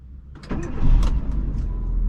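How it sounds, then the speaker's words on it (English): A car engine cranks briefly and catches, settling into a steady, rumbling idle close by. "first let me start my car"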